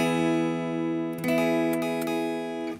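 A major chord on guitar, one strum ringing full before a second strum and a few quick restrikes, then fading out alone.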